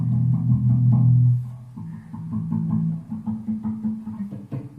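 Dull, thudding plucks of muted strings on a bass guitar, short and percussive, played in a quick rhythmic pattern with little sustain.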